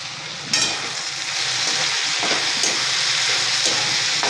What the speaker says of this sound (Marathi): आपली शेंग चांगली भाजून निघालेली आहे तेलामध्ये